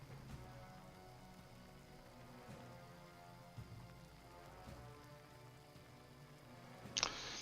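Steady rain falls in the Warcraft III video game, a quiet, even patter with no voices.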